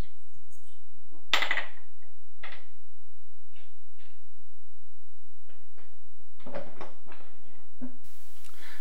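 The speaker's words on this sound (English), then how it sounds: "then go back in and reinstall the screws" Screws being driven back into the lid of a DIY decorative lantern enclosure with mesh panels, giving scattered close metallic and woody taps, clicks and scrapes with quiet pauses between them.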